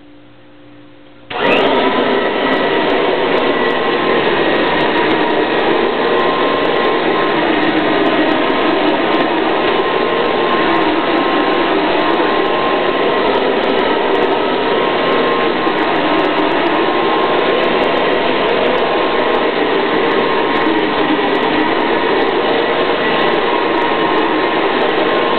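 A Kirby Classic 3 2CB vacuum cleaner switches on abruptly after a quiet second and then roars steadily and loudly on a carpet, its broad motor whine holding level until the end.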